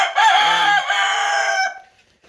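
Several backyard roosters of mixed breeds, hatched in an incubator, crowing loudly and close by, a long sustained crow lasting well over a second and fading out at the end, with no talking.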